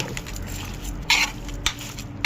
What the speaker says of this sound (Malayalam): കറിവേപ്പില ഇതിങ്ങനെ നല്ലോണം ഇളക്കി യോജിപ്പിക്കുക